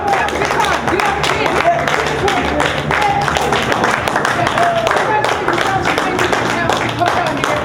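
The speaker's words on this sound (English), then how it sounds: "Give yourself a round of applause" An audience claps in a sustained round of applause at a live motivational event, a dense steady wash of hands with crowd noise and a low musical drone underneath, with no quiet gaps.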